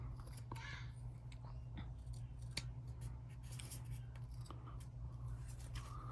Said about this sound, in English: Got a little trimming to do here.